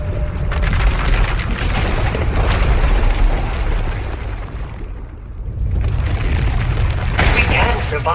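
A power eruption explosion in Star Wars: The Old Republic, a loud, sustained rumbling roar that dips briefly midway before surging again.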